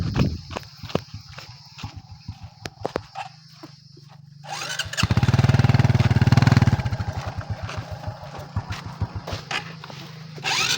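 A motorcycle engine putters with rapid rhythmic thumps, then revs louder and strains for a few seconds climbing a steep uphill road before settling back into an uneven idle.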